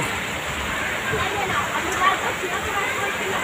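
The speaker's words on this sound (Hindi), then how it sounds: "बहुत तेज़ बारिश है, बहुत तेज़ आंधी तूफ़ान है और मौसम बहुत ही ख़राब है बम्बई का।" Heavy rain in a Mumbai windstorm, a dense steady broadband wash of falling water with gusty noise, continuous and fairly loud throughout.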